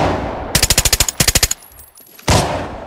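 Two rapid bursts of M4 rifle fire in the shooter game Arena Breakout, about ten sharp, loud, evenly spaced shots, then a short lull before another loud blast.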